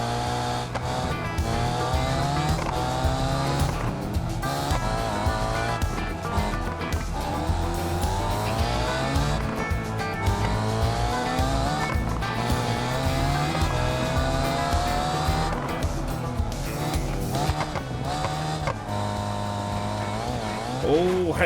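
Race car lapping in a racing video game: a loud engine constantly revs up and down through gear changes, with repeated rising whines and tire squeals, sustained for the whole stretch.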